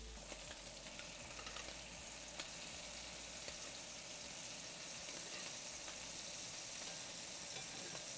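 Scallops sear in a very hot pan, a steady close sizzle and crackle running evenly throughout with a low hum beneath, no voices.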